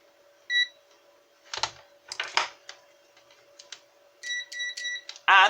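Multimeter continuity test beeping as probes touch, from a cheap set of probes used during an eBay 10W flood light teardown; short tonal beeps among clicky probe and handling noises, closing with a louder sustained beep, no talk.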